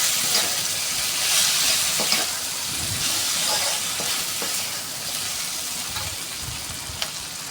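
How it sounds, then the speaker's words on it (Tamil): Sundakkai (turkey berries) fry in a pan for kara kuzhambu while a spoon stirs them, giving a steady close sizzle with light scraping clicks throughout and no talking. "சுண்டைக்காயும் நல்லா வதங்கி வரணும்."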